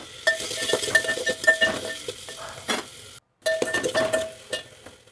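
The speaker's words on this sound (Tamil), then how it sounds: "அது கூட மஞ்சள் தூள் மிளகாய் தூள் உப்பு இதெல்லாம் ஆட் பண்ணி நல்லா வதக்கி விட்டுக்கலாம்" Tomato cooks in a pan with turmeric, chili powder and salt, sizzling under repeated stirring, with metal spoon scrapes and light clinks against the pan and one brief break in the sound.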